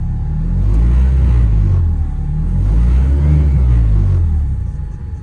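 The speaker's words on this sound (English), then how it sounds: "the engine sparks into life, but let's just give it a rev." A 2011 Microcar M-Go SLX, a small four-wheeled automatic microcar, revs its small engine in a couple of rising and falling surges, loud and close, with no talking.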